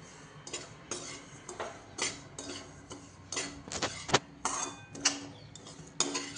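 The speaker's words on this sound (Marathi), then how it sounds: "आणि तुपावरती हा रवा छान भाजून घेणार आहे।" Semolina roasting in ghee over a low flame, with a spoon scraping and clinking against the pan in irregular, fairly close strokes and faint frying underneath.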